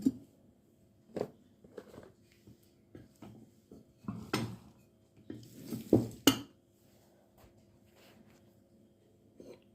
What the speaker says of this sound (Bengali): মাটির দুইটা হাঁড়ি